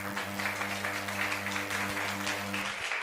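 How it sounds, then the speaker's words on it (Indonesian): Audience applause for seven candidates at a school debate, dense continuous clapping from a crowd throughout, over a steady low electrical hum from the hall's sound system. "Tepuk tangan untuk ke-7 calon."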